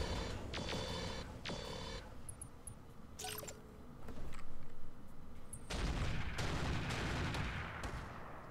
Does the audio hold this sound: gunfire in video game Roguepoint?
yes